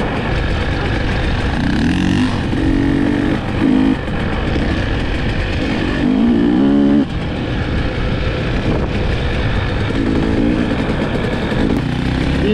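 A 2022 KTM 300 EXC dirt bike engine idles and revs unevenly nearby, a loud continuous buzz with brief rises in pitch, no talking.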